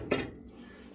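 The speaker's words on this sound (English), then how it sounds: "here goes the bacon in, and mix that up" Bacon stirred into a pot of pasta with butter: a single sharp clink of a utensil on the pot, then a soft scraping mix that fades out.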